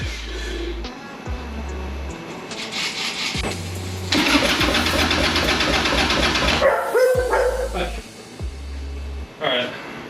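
A custom-built motorcycle engine cranks in several separate starter bursts, sputtering and coughing through its carburetor without catching. A louder, rougher stretch comes in the middle, and the engine is heard close up in a workshop.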